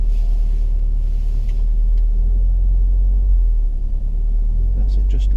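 A car engine held at light throttle, around 1,000 rpm, during a parallel parking manoeuvre, giving a steady low rumble throughout with no revving, while a person talks over it.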